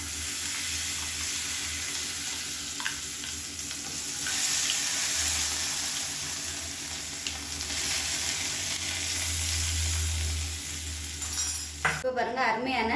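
Mustard seeds, urad dal, curry leaves and chillies tempering in hot oil for chutney give a steady, close sizzle and crackle that runs throughout, ending in a brief clatter.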